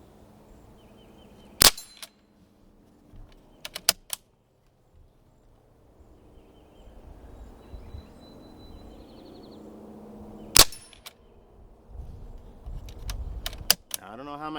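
Sharp metallic pings of .177 pellets from a Ruger 10/22 pellet rifle striking a target, a few spaced impacts with softer clicks of the gun between them, over quiet room noise.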